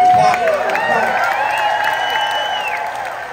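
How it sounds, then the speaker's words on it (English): A theatre audience applauds the cast, crew and creative team of a stage production. It sounds like a dense, steady wash of clapping mixed with cheers and raised voices, loud at first and easing slightly over a few seconds. "Just give another round of applause."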